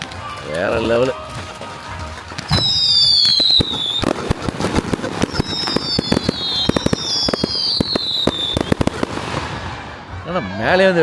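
At a festival in the USA, fireworks whistle upward and crack overhead in rapid, dense bursts of loud pops, with people talking and reacting close by.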